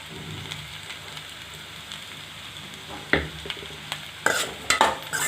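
Squid frying in a pan with coconut makes a soft, steady sizzle, broken by sharp clinks and scraping strokes of stirring that grow louder and busier toward the end; nobody speaks.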